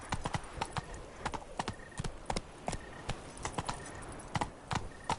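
In The Witcher, a horse's hooves clip-clop in a quick, uneven galloping rhythm of crisp close thuds throughout, with faint ambient sound behind them.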